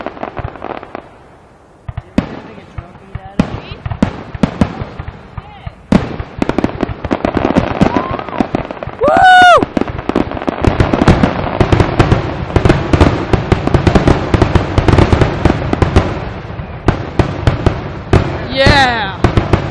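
Carnival fireworks finale at Beach Haven: a dense, loud barrage of rapid bursts and crackling pops building into continuous explosions, with a couple of whistling rockets rising, and excited voices talking and cheering throughout.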